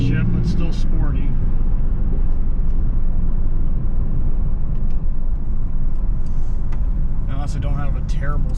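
A 2001 Pontiac Firebird with a V6 engine on a test drive: steady engine and road rumble runs underneath continuous talking from the driver.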